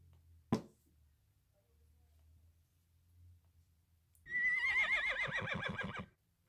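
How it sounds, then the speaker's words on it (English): A toy animal sound box plays a recorded horse neigh, a loud whinny close by lasting about two seconds after a sharp click and quiet hum. "Horse."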